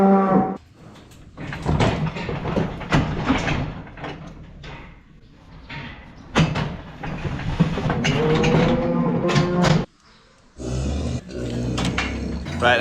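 A cow in a livestock handling system moos loudly and repeatedly at close range, with metal clanks and gate noises between the calls.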